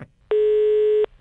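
A single steady telephone ringback tone sounds loud and clear for under a second while a phone call to Selma is placed, alone with no voices over it.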